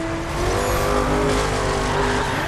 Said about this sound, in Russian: У меня очень громко шумит движок.